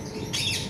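Pet birds kept in an aviary, including Indian ringnecks and African lovebirds, give a short burst of chirping and squawking calls, close and moderately loud.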